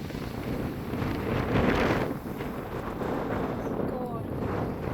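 Strong cold wind buffets the microphone at Holly Beach on the Gulf of Mexico coast, a steady broadband roar that swells in the middle and then settles, with no clear voices.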